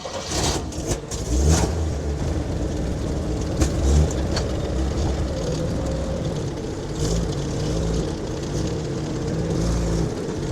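A 1946 Ford Super Deluxe truck's flathead V8 runs close by, a steady low rumble that swells in a few revs.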